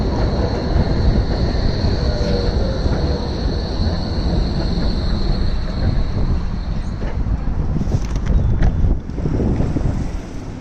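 A Berlin M8 tram heard near and loud, a broad rolling rumble with steady wind buffeting, a faint high electrical whine and a few metallic clicks and squeals toward the end.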